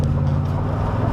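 Chevrolet Tahoe in low range, not in four-wheel drive, climbing a dirt hill, a brief steady engine rumble with road and tire noise, loud and continuous.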